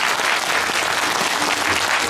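Steady, full applause from a ceremony audience at a community welfare center's student showcase. The clapping is loud and continuous throughout, with no speech.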